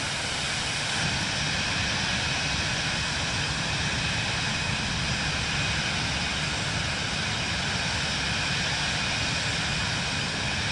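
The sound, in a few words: aircraft flyby in Microsoft Flight Simulator 2024 video game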